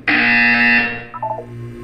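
A loud electronic buzzer in the Portal 2 puzzle video game sounds for about a second, steady and harsh, then trails off into a few quieter blips and a low hum, with no talk over it.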